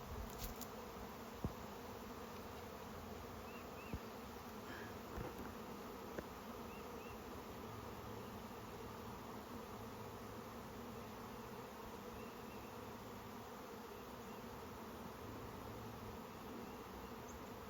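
A steady, dense buzz of many bees swarming around a homemade swarm trap hive outdoors carries on without a break for the whole stretch, with a few faint clicks over the drone and no voices.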